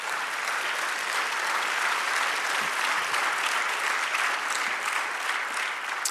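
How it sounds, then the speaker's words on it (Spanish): A congregation claps during a church service led by Pastor Vicente Ortíz, with steady, dense applause from a large crowd continuing evenly and filling the room from start to finish. "Aleluya, dale un aplauso"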